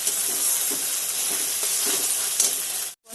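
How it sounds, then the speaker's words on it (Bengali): Water hits hot fried spice paste for a yogurt fish curry, bursting into a loud, steady sizzling hiss of steam that holds for a few seconds before cutting off abruptly. "এখন এর মধ্যে দিয়ে দেবো হচ্ছে জল।"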